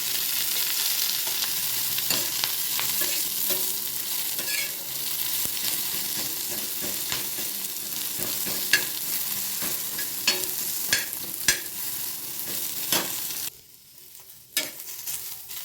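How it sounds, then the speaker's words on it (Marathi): Onions fry in a little oil in a pan for a mutton gravy, with a steady loud sizzle and occasional stirring scrapes close by, then a sudden drop to near quiet toward the end. "इथे कांद्यामध्ये ना आपण थोडंसं तेल टाकून भाजूया म्हणजे ते पटकन भाजले जातात"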